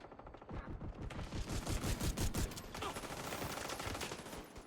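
Rapid automatic fire from the Slingshot SMG in The Division 2 video game, a dense sustained burst of loud, close shots rattling continuously for several seconds.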